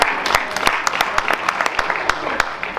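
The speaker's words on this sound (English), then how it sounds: "round of applause for that." An audience applauds at an instrumental music information night, a burst of clapping from a moderate crowd with distinct sharp claps standing out, lasting a few seconds at close range.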